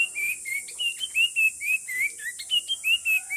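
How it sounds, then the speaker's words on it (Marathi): Babblers, small birds called seven sisters that live in groups, give a quick run of short whistled chirps and calls, fairly close and steady, with no voices. "हे छोटे छोटे पक्षी आहेत हे आहेत बॅबलर ते खूपच बडबड करणारे पक्षी आहेत"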